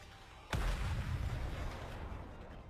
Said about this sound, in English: The missiles have no homing ability. It's just firing wildly.